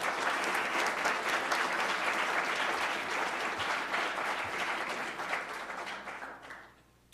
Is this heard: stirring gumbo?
no